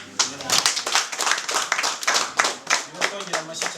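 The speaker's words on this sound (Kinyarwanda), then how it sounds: "Nongera amashyi cyane" Guests at a Rwandan traditional wedding ceremony clap loudly and close by in a quick, uneven rhythm, with a voice speaking over the clapping.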